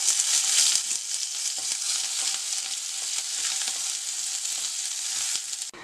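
Curry leaves and cumin sizzling in hot oil for tomato pappu, a loud, continuous crackling hiss that holds steady close by throughout, with no voices.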